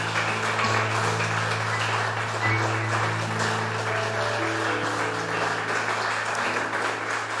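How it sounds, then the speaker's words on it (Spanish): A church congregation applauds in a continuous, moderately loud wash of clapping, layered over sustained steady musical tones throughout. "démosle un aplauso al Señor"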